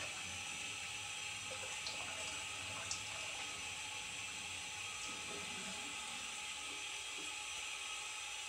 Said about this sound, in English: Let me rinse off real quick, and I'll be right back.